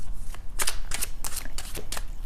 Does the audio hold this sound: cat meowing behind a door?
no